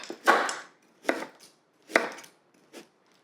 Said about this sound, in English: Easy, just chop.